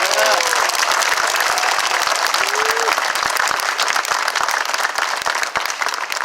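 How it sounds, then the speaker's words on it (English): Sustained crowd applause fills the room at a community rally against anti-Asian hate in Quincy, dense steady clapping with a few cheers and a brief voice rising above it, loud and continuous throughout. "give a clap for both of them"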